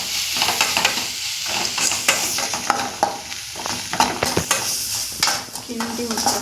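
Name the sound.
stirring ginger garlic paste frying in a pan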